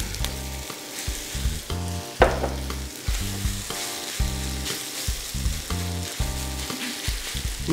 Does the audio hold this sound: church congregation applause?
no